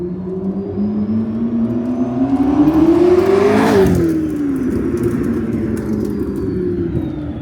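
A car accelerating past, its engine note climbing to a loud peak as it draws near, then dropping in pitch and fading as it moves away.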